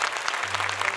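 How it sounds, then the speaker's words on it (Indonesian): Studio audience clapping on a televised Quran-memorization competition show, a brief dense patter of hands with a low hum beneath. "Boleh tepuk tangan untuk Zaki."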